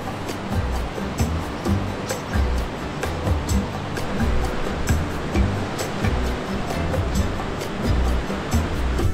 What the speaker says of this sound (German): Das Wasser wird auf jeden Fall gerade ziemlich wild.